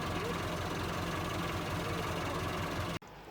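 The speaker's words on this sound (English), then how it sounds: "we're watching the tractor cutting off the grass" A tractor engine cutting hay grass drones steadily and loudly at close range with a rough, knocking idle-like rumble, then cuts off abruptly near the end, leaving quieter background.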